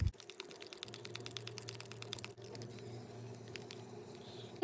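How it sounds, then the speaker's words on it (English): Clear no-glue soap slime being mixed by hand, a quiet stream of wet squishing and clicking taps over a low background hum from a washing machine, with no voices. "So I'm going to mix the soap for about 5 minutes now."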